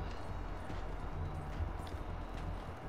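A horse galloping in the video game Red Dead Redemption 2, its quick rhythmic hoof beats blending into a steady dense rumble of outdoor game ambience, moderately faint.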